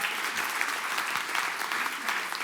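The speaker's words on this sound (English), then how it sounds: "let's give them another round of applause" A room full of guests at an annual meeting and legacy celebration applauds awardees and honorees, dense continuous clapping holding an even level throughout.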